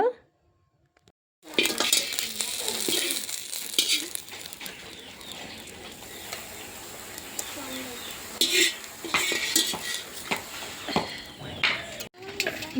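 Peanuts, curry leaves and ginger-garlic paste fry in a pan for boondi, a soft continuous sizzle with stirring scrapes and utensil clinks, after a brief silent start.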